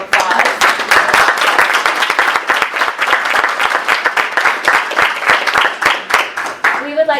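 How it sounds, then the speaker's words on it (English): Close, lively applause at a school district board meeting, many individual hand claps distinct in a brisk, uneven rhythm that carries on for several seconds before tapering off. "Let's give you a round of applause."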